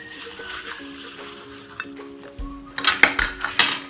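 Papaya spring roll filling is mixed in a bowl: a quiet, wet stirring sound that builds into several sharp utensil clinks and knocks against the bowl toward the end.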